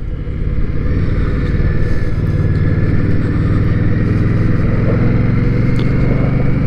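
Steady, loud, close engine drone from an Indian motorcycle on a demo-day test ride, with a deep even rumble held for several seconds and no talking.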